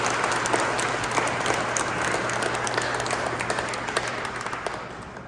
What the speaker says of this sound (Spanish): un fuerte aplauso a Lisbeth, que ha recibido la pasada